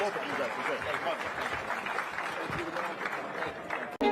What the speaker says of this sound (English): Give a round of applause to Clint and a great moderator, Dave Smith, as well